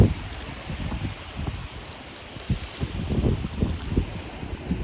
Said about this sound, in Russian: шум волн, да.